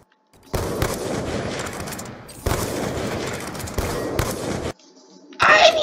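Rapid automatic gunfire from a video game comes in long sustained bursts separated by short gaps, loud and close, with a brief burst of other game sound at the end.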